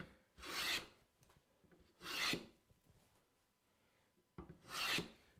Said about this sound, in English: Actually, I'm working with the grain. I can increase my cut depth a little, speed this up.